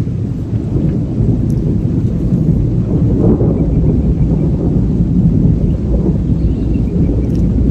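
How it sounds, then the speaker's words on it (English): Thunder rolls continuously overhead during a building thunderstorm on a farm, loud and close, with steady rain and wind buffeting the microphone throughout. "So it's starting to thunder again."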